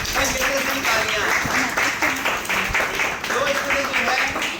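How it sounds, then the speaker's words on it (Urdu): An audience breaks into applause at a charity fundraising event, bursts of clapping and cheering rising and falling over several seconds, mixed with speech. "تالیاں"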